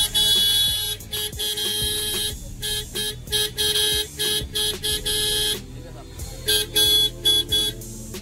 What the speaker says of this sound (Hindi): एक मिंटा का हॉर्न मैंने ऊपर लगाया और एक एनर्जी हेड लगाया, तो उसकी मैं आपको वॉइस अब सुनाता हूँ